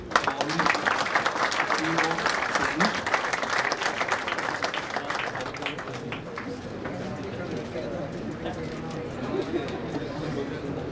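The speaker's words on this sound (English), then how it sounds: "I request the audience to give a round of applause." An audience at a men's and women's cycling road tournament prize ceremony claps loudly and densely, then the clapping thins and fades to scattered patter over a murmur of voices and talk.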